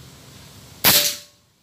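A single sharp pneumatic crack from a Predator Raccoon PCP air rifle with a D38 aluminium tube, sudden and bright, decaying quickly after a quiet lead-in.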